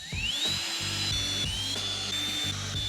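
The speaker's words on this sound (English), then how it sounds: "Now it's just time to drill in." A power drill whines steadily, its pitch rising as it spins up, with grinding bites as it bores into a desk countertop; no talking.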